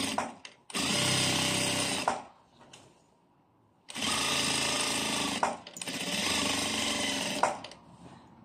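A sewing machine stitches a kimono sleeve garment, running in three steady, loud motor-driven bursts of a second or more, separated by short pauses.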